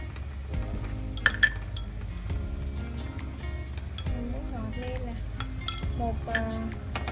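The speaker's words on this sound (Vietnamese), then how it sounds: "mình sẽ đảo cái hỗn hợp này khoảng 5 phút nữa nha" A utensil clinks and scrapes against a pan while stirring pork stomach with pickled mustard greens, intermittent metallic taps over a steady background hum with a voice talking at times.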